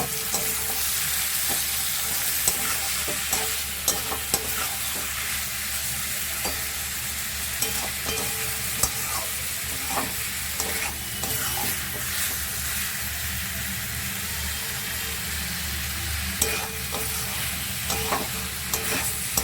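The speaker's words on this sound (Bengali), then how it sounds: "এবার আমি মাংসটাকে কষাবো" Chicken pieces for chicken kosha stir-frying in a pan, a long steady sizzle with repeated clinks and scrapes of a spatulaing stirring the meat throughout, close up and without talk.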